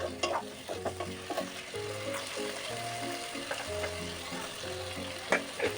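Soya bean masala with soy sauce and vinegar sautéing in a pan, a steady sizzle with repeated scraping stirs and a low droning tone underneath, moderately loud throughout with no talking.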